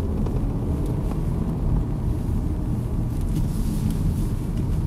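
An Audi A6 Avant 2.8 drives on and gathers pace, with a steady low engine and road rumble heard from inside the cabin, broad and unbroken throughout.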